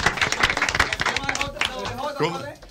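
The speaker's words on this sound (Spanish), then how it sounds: "vamos a darle un aplauso a Abel Martínez que ha estado con nosotros" A political event audience claps for a party guest, quick scattered claps under someone speaking over them, fading as his voice carries on alone toward the end.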